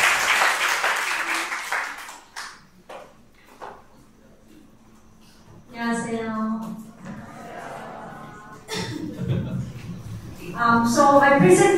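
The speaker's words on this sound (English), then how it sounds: "Let's give a warm round of applause to Dr. Jong Min." An audience at a lecture gives a short burst of applause that dies away within a couple of seconds. After a quiet gap, a speaker starts talking.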